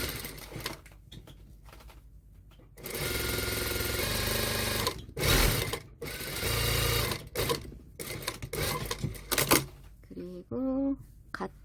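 A sewing machine stitches a knit sweater in bursts, running steadily for a few seconds, stopping, then starting again in shorter runs with clicks between; a voice speaks briefly near the end.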